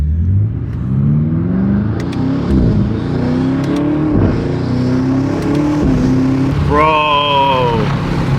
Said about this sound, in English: Dude, the intake sounds sick. Front mount intake.